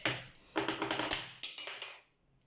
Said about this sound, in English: knocking everything over it